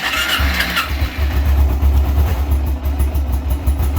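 A 2009 Kawasaki Ninja 250 motorcycle engine cranks briefly, fires up and settles into a loud, close, steady low idle rumble that lasts to the end.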